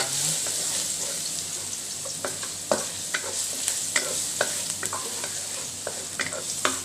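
Garlic stir-frying in a large pan, a steady bright sizzle with intermittent scraping and clinking of a utensil against the metal, close and alone without talk.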